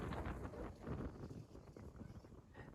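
Faint wind buffets the microphone in low, rumbling gusts that swell and ease over a few seconds, at a beach in northern Okinawa on a rainy day.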